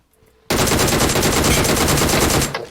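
A loud automatic weapon in PUBG Mobile fires one rapid, unbroken two-second burst after a quiet moment, ending abruptly.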